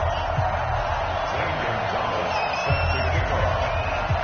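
A stadium crowd roars and cheers at an NFL game between the Seattle Seahawks and Detroit Lions in an EA Sports football video game, a steady, muffled wash of noise with voices mixed in.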